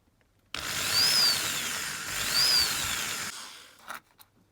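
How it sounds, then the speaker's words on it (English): A power drill whines through a rivet on a Matchbox Lesney No.19 Aston Martin DBR5 diecast model for about three seconds, pitch rising and falling twice as it bites, then stops with a few clicks. "just going to try this drill first, slowly"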